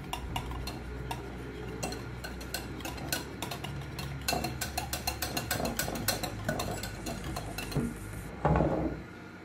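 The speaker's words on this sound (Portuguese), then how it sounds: "Agora eu vou misturar isso daqui muito bem." A utensil stirs a grape Tang juice dessert mixture in a bowl, making repeated close clinks and scraping taps in an uneven rhythm.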